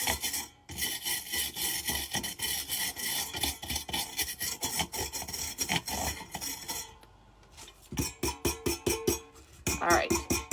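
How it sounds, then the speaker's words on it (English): Hand scraping on a rustic oil lamp, rapid rasping strokes in bursts with a brief pause midway, close and fairly quiet, no voices heard. "I'm going to scrape this just a little bit"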